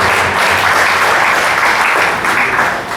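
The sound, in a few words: audience applauding the young people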